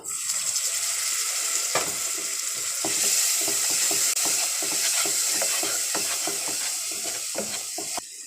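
Spiced masala with turmeric and salt being stir-fried in a pan for a potol chingri (pointed gourd and prawn) dish, with steady sizzling and repeated scraping stirs close by, no talking.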